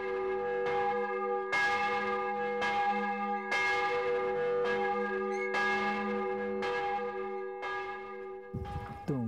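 A large church bell rings in slow, regular strokes about once a second, each loud clang with a long sustained hum that overlaps the next strike, with no talking.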